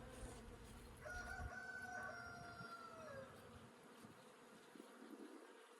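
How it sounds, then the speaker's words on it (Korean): Faint, steady buzzing of bees droning around a flowering bladdernut shrub, with a wavering hum rising and falling for a few seconds. "벌소리입니다. 윙윙윙윙 벌소리."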